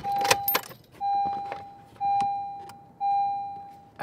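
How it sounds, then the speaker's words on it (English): Keys turned in a car's ignition: a jingle of keys at the start, then a steady electronic warning chime repeating about once per second, four long tones in a row, fairly close in a quiet interior. "so we'll turn the car on."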